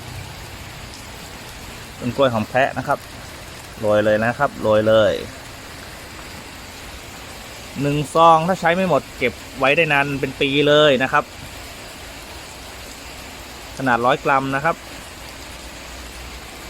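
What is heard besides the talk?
heavy rain falling outdoors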